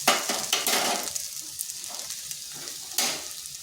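Kundri (ivy gourd) frying in a pan with ground coriander and cumin, a close, bright sizzle with stirring scrapes that swells in bursts and then settles, heard alone without talk.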